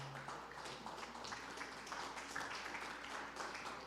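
A church congregation applauds together, a steady wash of clapping throughout, fairly distant and moderate in level with a faint voice or two mixed in.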